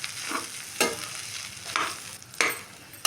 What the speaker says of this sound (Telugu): ఇప్పుడు రైస్ మొత్తాన్ని బాగా కలిపేసేసుకున్నాం